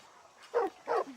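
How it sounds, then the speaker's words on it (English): A dog in the Skyrim video game gives two short, gruff barks close up, separated by a brief pause, over quiet game ambience. "Good dog."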